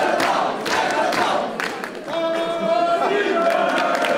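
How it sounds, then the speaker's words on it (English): Wrestling crowd in an arena before a match, a dense roar of cheering and shouting that fills the space, dips briefly, then swells back up louder with sustained tones running through it. "The crowd getting louder and louder."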